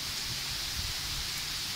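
Steady rain pours down around a village house on a hot day, a dense, even hiss of drops striking surfaces that holds constant and fairly loud throughout, with no voices.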